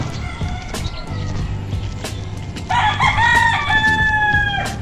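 A rooster crows loudly and close by, its drawn-out call rising over a steady low rumble and faint background noise.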